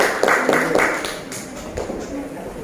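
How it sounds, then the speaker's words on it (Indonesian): A classroom of students claps in a short, even rhythmic pattern of sharp hand claps, with voices mixed in underneath. "Oke, kasih dulu tepuk tangan."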